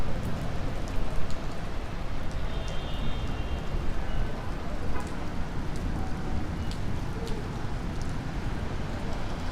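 Heavy rain pouring steadily onto the streets of Midtown Manhattan during a storm, a dense, continuous hiss and patter up close, with faint city noise underneath.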